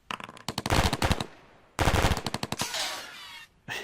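Gunfire in the Heroes of Normandie video game: two loud bursts of rapid machine-gun shots, the first about a second long and the second trailing into an echoing tail, then a brief final crack.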